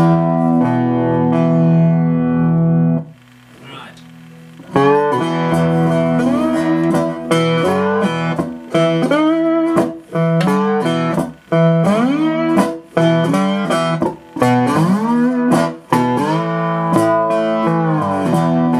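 Twangy notes from a three-string cigar box guitar played through an amp with echo trailing each pluck, a melodic run of single notes and slides with distortion.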